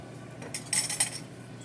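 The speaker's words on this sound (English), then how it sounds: "we take our bowl and we fold our mixture together here" A utensil clinks a few times against a bowl as a mixture is folded together while cooking a Pollo Loco copycat recipe. The clinks are soft and close, with no speech.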